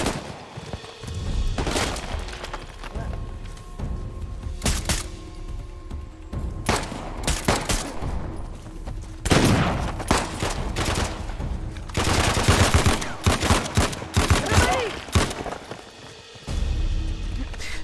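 Rapid bursts of gunfire crackle in clusters, loud and close, with sharp single shots between volleys and a steady background rumble, in the video game Uncharted: The Lost Legacy on PC.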